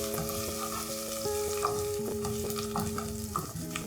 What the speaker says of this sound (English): So you cook your onions until soft.